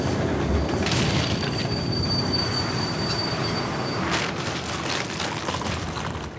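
Train wheels squeal and rumble steadily on the rails during a train ride in the video game The Ball, with sharp high screeches rising partway through over a continuous rolling roar.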